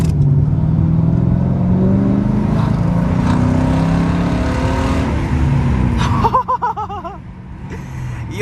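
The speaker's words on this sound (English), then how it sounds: "the sound of this car, like when it farts, bro, is one of the most satisfying sounds ever" A straight-piped Dodge Charger R/T gives a loud, continuous low exhaust rumble that swells and eases steadily, with a voice breaking in near the end.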